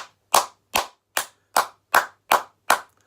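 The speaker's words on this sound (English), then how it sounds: "I'm just going to give you an applause, mate." Eight slow, deliberate hand claps ring out close and crisp in a steady rhythm, praising footballer Kyle Edwards after West Brom's 1-0 win at Brentford, with no talking between them.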